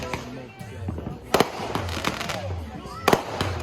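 Fireworks popping and crackling in a series of sharp bursts, with two louder bangs standing out, heard outdoors over background noise and some voices.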